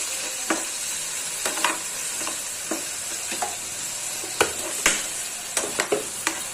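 Potatoes fry in a pan with green chillies and salt, giving a steady close sizzle punctuated by a dozen or so sharp scraping stirs at irregular intervals, with no talking.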